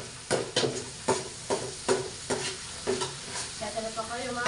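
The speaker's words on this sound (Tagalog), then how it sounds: "nagigisa pa tayo ng bawang" Garlic and onion sauté in a pan, a sizzling bed broken by about eight regular, sharp spatula strokes against the metal, close up.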